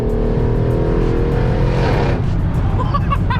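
A Mercedes ML63 AMG with a 607 hp engine revs loudly and close, a deep roaring drone that swells and then falls away, with faint talk beneath.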